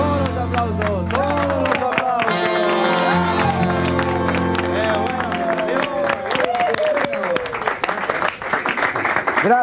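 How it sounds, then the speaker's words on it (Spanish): A live folk concert audience gives loud, sustained applause for the band, dense clapping and crowd noise mixed with music and voices throughout. "Fuerte el aplauso, país."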